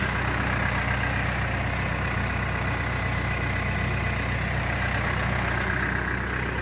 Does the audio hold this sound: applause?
no